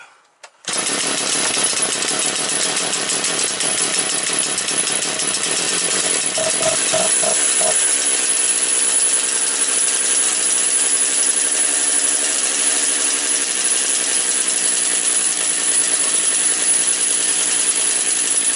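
A Motor Sich 475 engine idles after a carburetor idle adjustment, with a loud, continuous, buzzing drone that starts abruptly and holds steady to the end.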